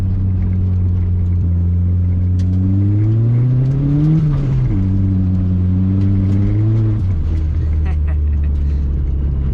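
A turbocharged Honda Civic with a D16Y7 engine pulls hard in first gear on an icy street, its loud engine drone rising in pitch, dipping at a shift, then climbing again before easing off.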